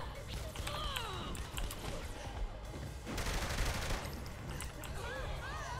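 Laser weapons firing in the Saints Row: The Third Remastered video game, dense bursts of rapid electronic shots and zaps layered with explosive crackle, loud and continuous, with someone talking over the action.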